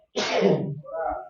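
A single close, sharp sneeze bursts out, trailing into a short breathy exhale afterward.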